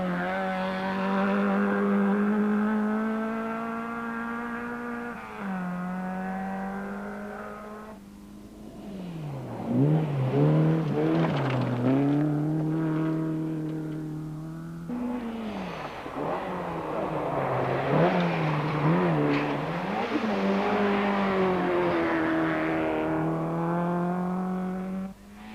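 Rally cars competing in the 1987 Rally New Zealand, engines revving hard with rising and falling pitch through gear changes, loud and close, one car climbing through the revs before another surges past, with no voices.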